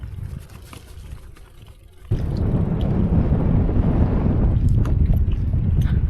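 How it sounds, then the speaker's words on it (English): A strong headwind batters a cyclist riding across open Mongolian country, first as a moderate rumble, then as a loud, constant roaring buffet that fills the rest of the clip. "I'm gonna have crazy headwind for the entire day today."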